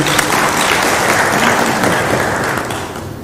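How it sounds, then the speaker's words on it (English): An audience at Nairobi Innovation Week 2022 applauds the event's sponsors, a loud dense round of clapping that holds steady for about three seconds before easing off. "We want to give a clap to all of them."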